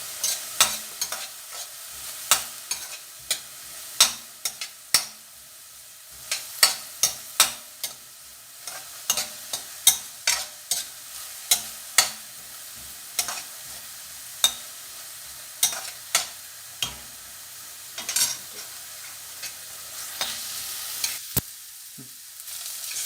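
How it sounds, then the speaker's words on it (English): Bell peppers sizzle in a hot frying pan while a utensil stirs them, giving a steady soft hiss broken by frequent crisp clicks and scrapes, close and alone. "sizzle them for a few minutes"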